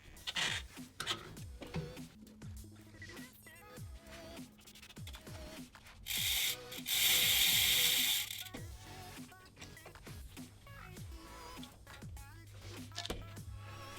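Xpedo M-Force 8 pedal being cinched down onto a bicycle crank arm with a wrench, a series of close ratcheting clicks and mechanical ticks with a brief louder scraping burst midway, no talking.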